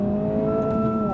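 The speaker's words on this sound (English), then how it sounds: "Now I'm gonna head into first gear, rev it out a little bit, get off the clutch." A 2025 Honda Civic Si with a turbocharged 1.5-liter four-cylinder pulls away in first gear, its engine note climbing steadily in pitch as the revs rise, heard loud and close from inside the car.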